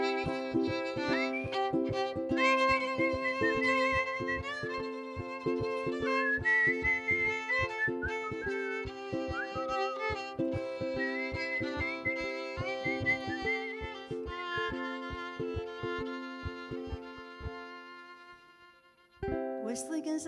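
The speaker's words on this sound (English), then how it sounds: "Here's the whistling part." Someone whistles a melody over a live band accompaniment at a Seattle stage show, the tune weaving above steady instrumental backing until it trails off near the end.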